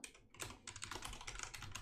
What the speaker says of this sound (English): So let's quickly type it in.